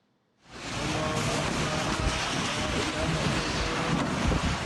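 Strong whirlwind gusts tearing roof tiles off houses in a densely populated village in Temanggung, Central Java: a sudden onset of loud, steady broadband roaring and buffeting that persists without pause.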